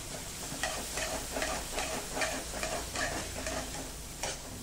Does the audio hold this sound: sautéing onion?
yes